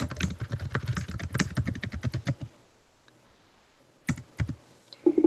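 Close computer keyboard typing as a search is entered, a fast burst of clicking keystrokes, then a pause of near silence before a few more scattered key presses.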